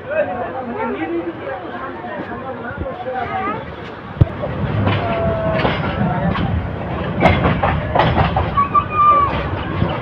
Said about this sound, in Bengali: আউলিয়ানগর থেকে ছেড়ে যাচ্ছে ট্রেনটি বলকাকল মোটর ট্রেনটি